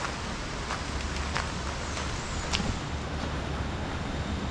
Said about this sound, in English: it sounds like it's raining really hard,